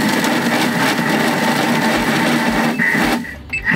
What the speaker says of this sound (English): Okay, Addy, would you like to give that a bit of a turbo pulse a few times?